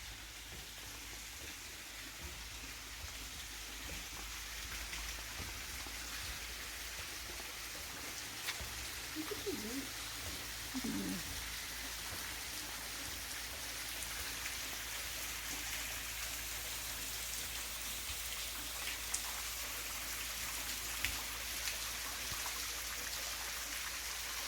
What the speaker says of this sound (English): The sound is so, like the birds, the sound of the trickling water.